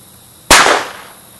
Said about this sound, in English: You shot the lid off.